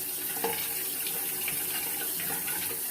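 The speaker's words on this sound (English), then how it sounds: "Y'all hear the water going." Hot water streams steadily from a tap into a bathroom sink, a continuous close splashing hiss with small bubbling variations and no talking.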